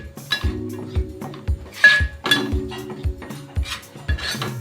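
Okra and gram flour are roasted over medium heat in a pan while a metal spoon stirs them, producing rhythmic clinks and scrapes with bright pings against the pan, close up and without speech.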